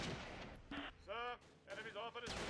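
Gunfire from small arms and artillery in the Close Combat: The Longest Day battle at Pegasus Bridge, quiet bursts of shots and booms with harsh bright crackles, mixed under someone talking.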